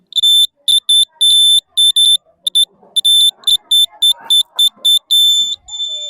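An earthquake alarm on a children's fair model sounds rapid, shrill electronic beeps in loud irregular pulses, with people talking quietly underneath.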